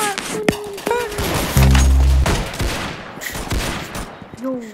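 Gunfire in the video game Arsenal, a short burst of loud shots and thuds over a bed of music, with a louder sustained blast midway, while a voice talks over the action.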